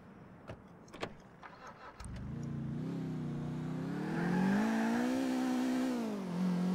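Car engine in the video game GTA IV starts up and revs, rising and falling in pitch as it accelerates, loud and steady after a few brief knocks at the start.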